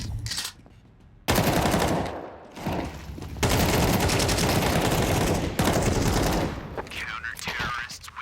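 Bursts of rapid gunfire in a Counter-Strike pistol round at a professional esports match. Dense rattling volleys are broken by short pauses, and a commentator talks over part of it.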